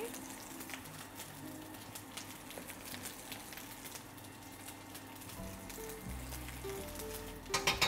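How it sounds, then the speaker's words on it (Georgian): A soft, steady sizzle of food frying in a pan, with occasional faint stirring and a low background hum, fairly quiet overall. "მეორე ტაფაზე შევწვათ ჩვენი ნიყვი"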